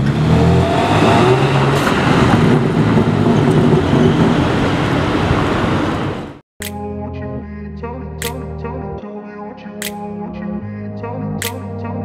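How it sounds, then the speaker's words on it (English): A 2022 BMW M3 Competition pulling away, its engine roaring loudly for about six seconds before cutting off abruptly into music. "M3 Comp is leaving."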